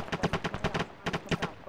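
Rapid bursts of gunfire from a military video game, a steady run of close, sharp shots with a short pause midway before the firing picks up again.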